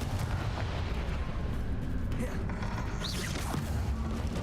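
Confringo explosive spell cast in the video game Hogwarts Legacy, a dense, loud, rumbling burst of blasts and crashing debris with a rising whoosh near the end, continuous over the few seconds.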